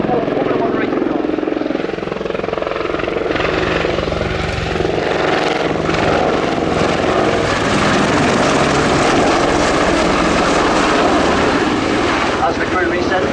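Loud, continuous Apache attack helicopter engine roar with rotor thrum at an air show display, steady throughout, with a voice faintly audible underneath.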